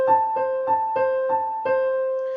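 A short melodic figure alternating a high A with C, played as a steady pulse of about six clean sustained tones with a repeating rhythm, close and clear with no voices.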